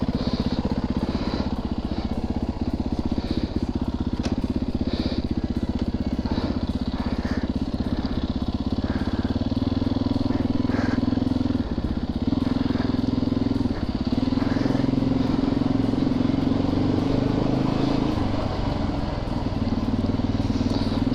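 A Yamaha YZ450FX dual sport motorcycle on the move rumbles steadily and loudly throughout, with its engine note rising and falling as the rider works the throttle, and rattling clatter mixed in.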